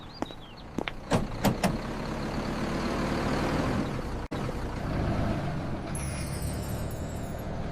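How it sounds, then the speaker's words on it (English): A city bus pulls up with a rumbling engine, several sharp hissing air brake releases at first, then a steady idle and a door clunk; a hiss of the doors comes near the end. "The bus arrives, and I get on."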